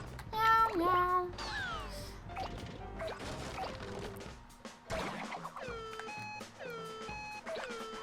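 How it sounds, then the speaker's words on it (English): Cat meowing in the video game Katamari Damacy, several bright synthetic meows over busy game effects, crashes and background music, with a voice also speaking. "Oh, I can get the cat. Meow."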